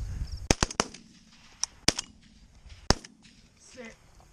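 Shotgun blasts during a pigeon hunt in Minnesota, several sharp reports, some in quick succession, with scattered softer pops and faint voices in the open air.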